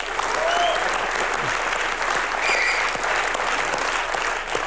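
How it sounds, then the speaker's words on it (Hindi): Studio audience applause on a Hindi TV comedy talk show, steady dense clapping and cheering throughout at an even loud level, with no speech over it. "पर यार तालियां बनती हैं."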